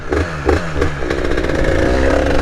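A 50cc motorbike, a Derbi-style 86 Most setup, revs hard as it lifts into a wheelie, engine note rising and holding steady with some clatter, loud and close throughout.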